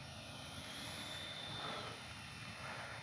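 An FMS 64mm F/A-18 Hornet RC jet on its takeoff run, with a steady whining electric ducted-fan roar that rises gently in pitch against a constant airy background.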